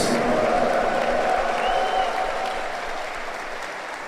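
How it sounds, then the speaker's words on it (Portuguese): Loud, steady applause fills a church congregation during a Sunday evening Mass homily, a dense wash of clapping that holds strong before easing slightly toward the end, with faint cheering mixed in. "Uma salva de palmas bem forte."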